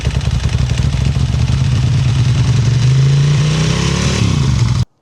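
Ducati motorcycle engine running close by, a loud continuous mid-pitched drone that rises slightly in pitch and then cuts off abruptly at the end.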